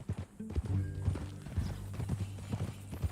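A horse walks in Red Dead Redemption 2, its hooves clip-clopping in an uneven run of close, crisp thuds, with some low rumbling and a short snort-like tone among the steps.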